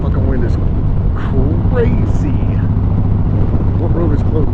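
Strong wind buffets the microphone outdoors beside a road, a steady low roar that runs the full length under someone talking and a passing engine.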